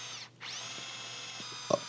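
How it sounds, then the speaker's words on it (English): Power drill boring pilot holes for screws in wooden clamp-rack parts, a steady whining drone that stops briefly, then runs continuously at moderate level with a small knock near the end; no talk. "pre-drill and countersink for screws"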